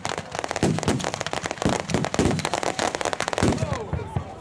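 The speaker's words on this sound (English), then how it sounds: "See fireworks going up all over Lewes because we're right on top of the hill." Fireworks crackle and pop continuously over Lewes, seen from a hilltop, a dense rapid barrage of sharp bangs with some whistling near the end, while people talk over it.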